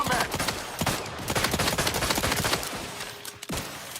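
Loud, sustained automatic gunfire from the game The Outer Worlds 2, rapid close shots fired in long bursts that thin out into a few scattered final shots.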